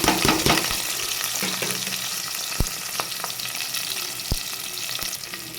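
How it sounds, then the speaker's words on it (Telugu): Sliced onions and green chillies frying in about three spoons of hot oil, a loud close sizzle that eases slightly, broken by a few sharp knocks of a spoon against the pan, with no speech. "ఒక మూడు స్పూన్లు ఆయిల్ వేసుకోండి ఆయిల్ వేడెక్కింది ఆనియన్ ఒక నాలుగు పచ్చిమిర్చి వేసుకున్నానండి"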